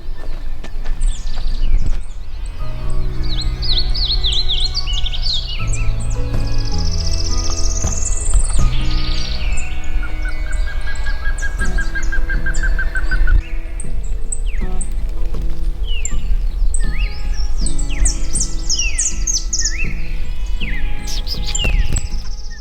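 Birds in the southern Uruguayan countryside sing and call continuously, with varied chirps, whistles and a trilling phrase layered over a low rural background hum.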